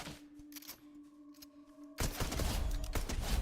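SMG gunfire in the video game Fortnite breaks out as a sudden loud, rapid burst after a quieter stretch of scattered clicks and a faint tone.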